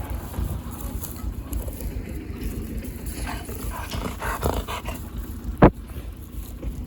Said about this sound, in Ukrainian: Собакевичі три штуки